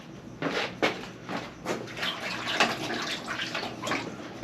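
Water sloshing and splashing in a bucket kept indoors in a small block house, with irregular splashes and knocks close by, fairly loud and continuous with no talking.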